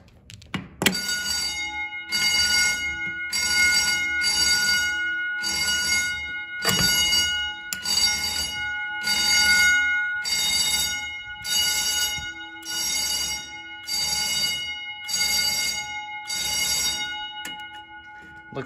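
Fire alarm panel bells ring loud and close in steady pulsing bursts, about a dozen on-off cycles with short gaps between them, set off from a pull station in a building alarm system test.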